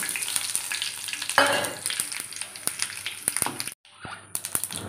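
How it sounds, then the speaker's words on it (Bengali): Bay leaf, dried red chilli and whole cumin crackle in hot oil as a tempering for moong dal cooked with a fish head, giving a dense, close sizzle that surges loudly early on, with scattered spoon taps and one brief drop to near silence. "এই তেলেই আমি ফোড়ন দিয়ে দেব, তেজপাতা, শুকনো লঙ্কা, গোটা জিরে।"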